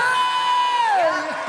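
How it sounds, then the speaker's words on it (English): A crowd at an inter-college entrepreneurship event cheers for the DJ, with a loud, sustained whoop that glides downward and fades into scattered voices over about a second and a half. "give him a round of applause."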